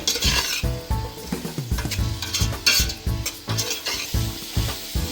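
Ground spices including garam masala, chilli powder, pepper and turmeric being stirred into frying chicken biryani, with a steady sizzle under repeated scraping of a spoon against the pot, close and continuous.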